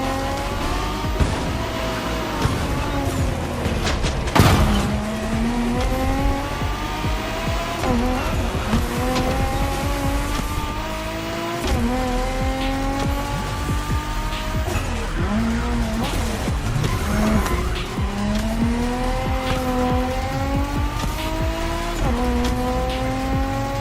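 A Nissan GTR with a heavy body kit races in The Crew Motorfest, its loud engine revving up and down through repeated gear shifts, with tires squealing and skidding through corners, close and continuous throughout.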